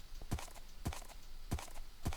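Horse hooves clip-clopping in a Minecraft-style video game, four evenly spaced hollow clops at a slow walking pace, moderately quiet and near, with light background noise.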